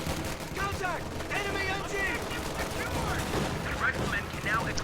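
Machine gun fire rattles in a strategy video game as a steady bed of battle noise and scattered shots, while a commentator talks over it throughout.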